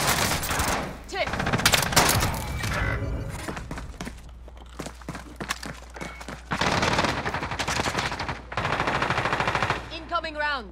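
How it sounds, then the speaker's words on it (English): Video game gunfire in sustained automatic bursts, loud and close, broken by short pauses and overlapping rattles, with game voices and effects mixed in and a whistling tail at the end. "No! I'm under fire."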